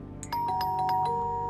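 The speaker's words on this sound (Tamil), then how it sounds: "காலிங் பெல் அடிக்க சவுண்ட் கேட்டுச்சு" A doorbell chimes inside a house in The Baby in Yellow video game, a few bright ding-dong tones ringing out over a steady low background hum, clear and close.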